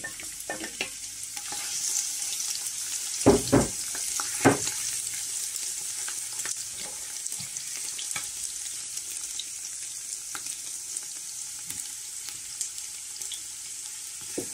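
Garlic and onions sizzle steadily in a pan, with a few sharp clattering stirs of a utensil near the start and a broad frying hiss throughout, no voices.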